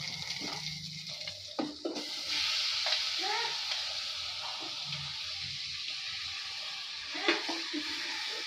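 Boiled mutton sizzles and is stirred in a frying masala paste in a pan, a steady close crackle with occasional scraping strokes and faint voice in the background.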